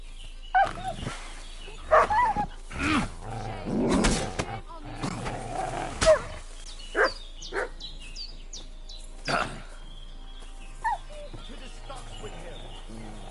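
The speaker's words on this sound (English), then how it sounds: "That's a wild dog." A wild dog in Kingdom Come Deliverance 2 barks and growls in repeated loud bursts close by, scattered irregularly with short gaps between them.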